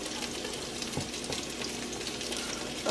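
Trader Joe's fried rice sizzles quietly in a pan, a soft, steady frying crackle with light stirring scrapes heard up close.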